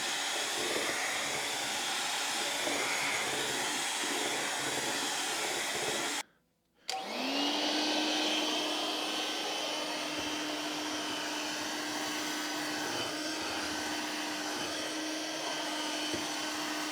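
A Bissell 3-in-1 stick vacuum runs with a steady, smooth motor whine that cuts out briefly, then restarts and settles into a constant hum with a thin tone above it, close and moderately quiet.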